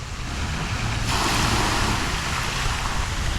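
Water spills from an overflowing bucket into a farm swimming pool at night, a steady broadband rushing splash that swells after the first second and stays loud and continuous.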